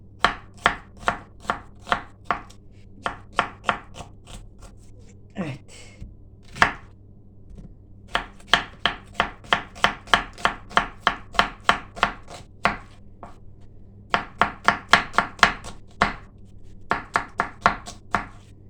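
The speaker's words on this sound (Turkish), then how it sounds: "doğramakta güçlük çekiyorum." A knife chops squash on a board in quick, rhythmic bursts of sharp taps, with a few short pauses between runs of strokes.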